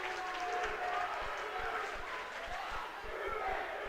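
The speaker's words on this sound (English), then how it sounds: "And there you hear the Sacred Heart crowd, the Sacred Heart fans, the student section" A high school basketball student section cheers and shouts in the gym, a steady crowd roar with a few claps and sneaker squeaks, heard somewhat distantly.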